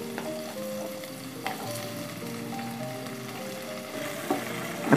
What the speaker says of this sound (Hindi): अच्छी तरह से इसे भूनते हैं और इसमें डाल देंगे अब हम टमाटर